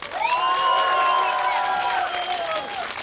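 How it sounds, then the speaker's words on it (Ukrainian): A crowd at an outdoor karaoke contest on a town square applauds and cheers for the winner, loud sustained clapping under rising whoops and high shouts. "Оплески."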